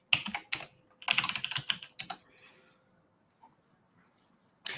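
Typing on a worn computer keyboard, with bursts of rapid clicking keystrokes near and clear, broken by short pauses and a final burst, with faint background hum and no talk.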